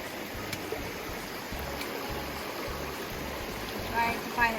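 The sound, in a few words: river stream flowing at a trail crossing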